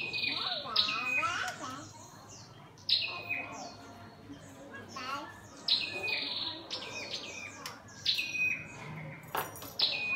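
Caged songbirds kept for feeding chirp and tweet in bright, quick bursts, several calls overlapping at close range with short pauses between phrases and no talking.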